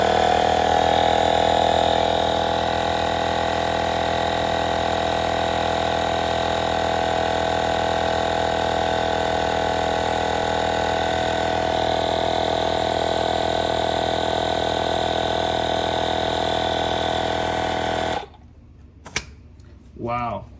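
A Syncwire 150 PSI portable air compressor running close by, a steady droning motor hum with tonal whine that holds for about eighteen seconds and then cuts off, followed by a voice speaking.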